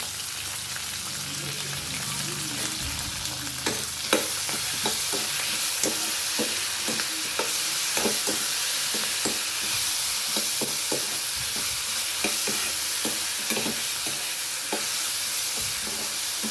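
Tomatoes sizzle steadily in a hot pan for mutton paya. A spoon stirs and scrapes through them in repeated soft knocks, close and continuous, with occasional faint talking.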